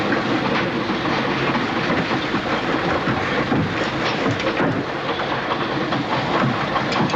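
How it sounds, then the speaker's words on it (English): A train runs along the rails in the Sherlock Holmes film Terror by Night, a continuous loud rumble and rhythmic clickety-clack that stays dense and steady throughout, with no talking. "He's just got off the train."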